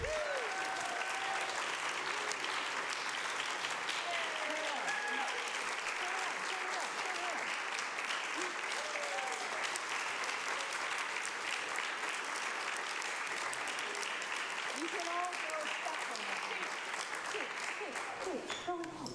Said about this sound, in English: Please join me in giving them one last round of applause.